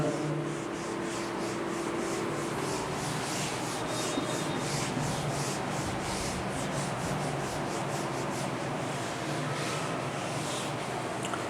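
Writing is rubbed off a classroom board with a steady, continuous scratchy scrubbing, close and fairly quiet, with no talk over it.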